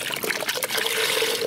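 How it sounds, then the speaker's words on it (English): Chicken broth is poured from a carton into a crockpot for tomato soup, a short, close liquid stream that splashes and gurgles steadily for a second or so. "Now we're going to add in some chicken broth."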